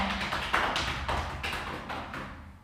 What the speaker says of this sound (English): Then patting your leg just to say hi leg, welcome to the space